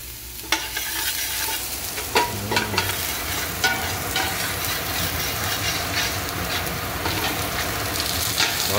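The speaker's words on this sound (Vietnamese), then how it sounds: "Giờ bỏ tỏi vô nha các bạn, bỏ tỏi vô để mình cháy cho nó thơm" Garlic frying and being stirred in a pot as the base for a spicy-sour mixed hotpot broth, a steady close sizzle with repeated scraping stir strokes throughout, no talking.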